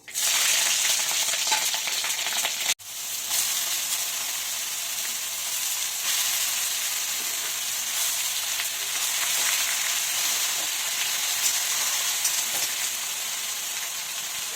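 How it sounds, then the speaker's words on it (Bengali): Bay leaves and green chilies sizzle in hot tempering oil for a vegetarian bottle gourd dish, a loud continuous frying hiss broken by one brief dropout early on, with no one talking. "এখন ফোড়নে দুটো তেজপাতা আর কাঁচা লঙ্কা"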